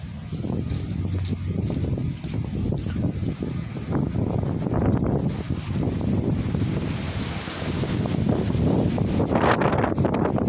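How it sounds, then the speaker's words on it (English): Strong wind roars outdoors in Fort Myers, a continuous loud buffeting rush with gusty surges and microphone wind noise throughout. "It's still windy."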